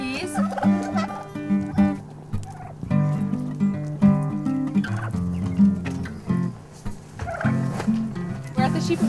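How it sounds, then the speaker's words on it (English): Young turkeys gobble in a farm sanctuary barn, a dense, continuous chorus of overlapping gobbles and clucks from several birds close by. "They are our younger turkeys."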